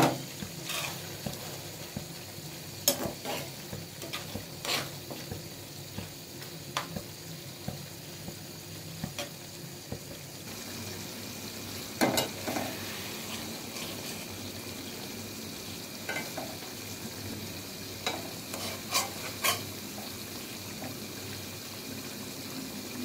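Crushed garlic fries with greens in a pan, a quiet steady sizzle broken by scattered clicks and scrapes of stirring, close and without talk.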